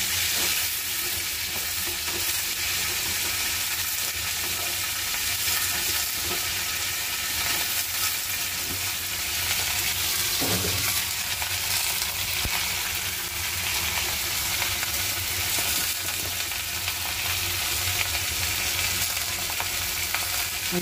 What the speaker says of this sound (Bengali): আমি এখন সবজিগুলো দিয়ে দিব, ভেজে দিচ্ছি